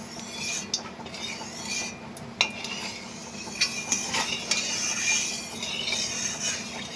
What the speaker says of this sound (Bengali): খুন্তি দিয়ে একটু নাড়িয়ে নিচ্ছি তেল।